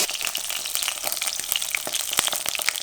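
Thin hake fillets fry in a hot pan with a steady, close sizzle and crackle, dense spits and pops scattered throughout, no voices.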